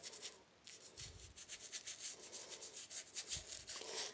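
Brush scrubbing brown acrylic paint into a wooden treasure chest around its handles, a close, quiet run of rapid rhythmic scratchy rubbing strokes with a couple of soft knocks, no talking.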